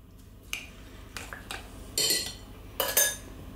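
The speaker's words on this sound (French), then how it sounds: "Je mélange à nouveau." Utensil clinking against a bowl while stirring an egg and vegetable mixture with cherry tomatoes and flat parsley, a few separate scrapes and clinks, close and fairly quiet with no talk.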